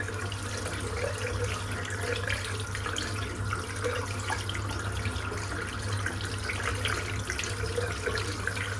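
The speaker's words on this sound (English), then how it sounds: "I'm just going to rinse out the soap." Running tap water pours steadily into a sink as Gron Lycka bergamot grape shaving soap is rinsed out, a continuous, even splashing hiss with no pauses.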